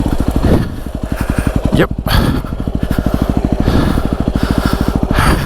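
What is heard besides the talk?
Yamaha WR250R dirt bike engine starting after a fall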